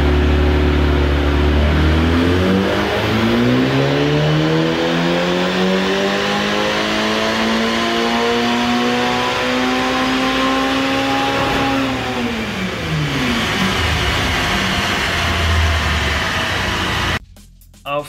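Ferrari Portofino with a 715 PS turbocharged engine and stock exhaust system revs loudly up, holds, and winds back down, a single sustained rise and fall ending in an abrupt cutoff.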